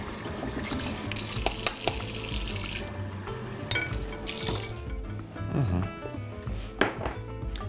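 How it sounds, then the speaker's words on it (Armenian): Cold water streams into a glass bowl as a steady running splash, then thins into trickles and light clinks of glass near the end. "և վրան լցնում ենք սառը ջուր։"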